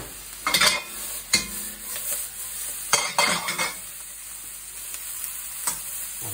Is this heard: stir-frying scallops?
yes